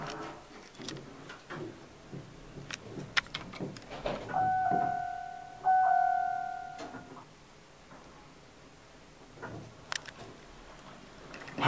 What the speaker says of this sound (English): I have a real problem with the chimes on these kind of elevators.